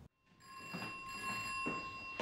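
An old-style telephone rings for an incoming call in a wartime drama adapted from Graham Greene. Its bell rings in repeated bursts over a steady tonal hum, clear and fairly close, with no voices.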